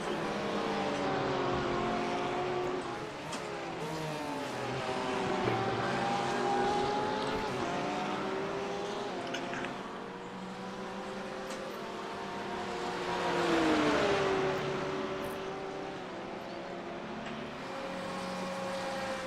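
A Porsche and a BMW GT3 race car in a race at Road Atlanta wail past with rising and falling engine notes that shift through gears, swelling near then fading, with no talk.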